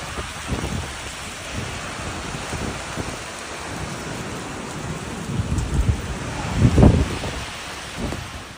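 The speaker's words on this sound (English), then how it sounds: "short-lived but intense hailstorm hit the interior of the Valencian community in Spain on Thursday afternoon" A short but intense hailstorm hammers down in Villar del Arzobispo, in inland Valencia, Spain, a dense roar of falling ice and rain with low rumbling swells that build and peak near the end.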